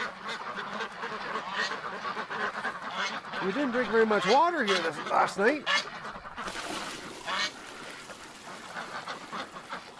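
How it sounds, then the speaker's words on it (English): Ducks quack and honk nearby in a noisy group inside a barn while a person talks over them. "Hi, little ducks. How's everybody doing?"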